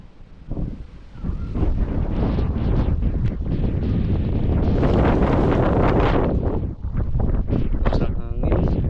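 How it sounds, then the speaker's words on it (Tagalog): Strong typhoon wind roars and buffets the microphone in a loud, continuous rush, with a few brief voices breaking through. "Ang hangin."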